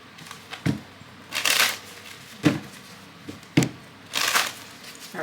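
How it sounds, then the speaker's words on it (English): A deck of tarot cards is shuffled in several quick riffling bursts, each a dry papery flutter with sharp taps between them, close and clear with no talking. "Let me do a quick shuffle, because a ton of cards just flew out."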